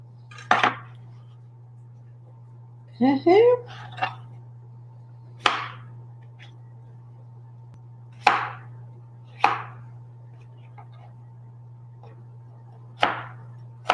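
A knife dicing potatoes on a cutting board for crock pot soup, with sharp, widely spaced chops at irregular intervals over a steady low hum, including a quick cluster of knocks.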